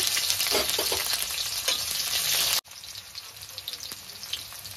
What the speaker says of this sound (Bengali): এখন দেব পেঁয়াজ কুচি